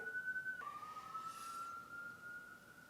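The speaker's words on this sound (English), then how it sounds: "siren?" A siren wails in a steady, slowly sliding tone, faint and distant, over low background rumble with no voices.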